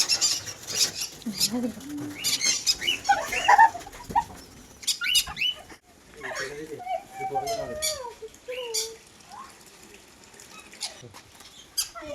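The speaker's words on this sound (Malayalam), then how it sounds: "ഞങ്ങൾ കിളികളെ കാണാനായിട്ട് പോവാണ് കേട്ടോ" Birds in an aviary at Cheloor, Kattikulam in Wayanad flutter their wings in bursts and give soft cooing and chirping calls, close by, while people talk quietly among them.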